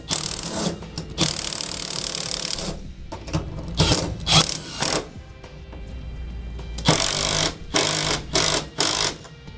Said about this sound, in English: with a wrench while we tighten down the nut